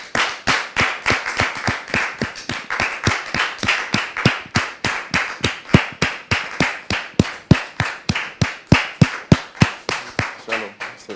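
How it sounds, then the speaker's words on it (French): A studio audience claps steadily and rhythmically in unison for several seconds, loud and close, to welcome a guest named Monsieur Séraphin onto a show. "Public, recevons à présent Monsieur Séraphin, sous vos applaudissements,"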